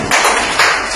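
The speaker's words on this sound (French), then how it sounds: "Ça s'applaudit." A short burst of close, dense audience applause fills the whole second, loud and steady, with no voices on top.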